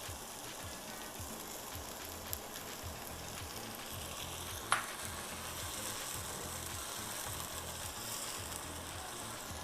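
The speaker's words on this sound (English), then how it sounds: "now our veggies is cooking" Vegetables and epis, a Caribbean seasoning blend, frying in a pan with a soft, even sizzle and crackle, a couple of faint clicks, heard alone without speech.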